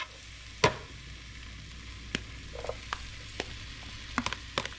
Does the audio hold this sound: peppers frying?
yes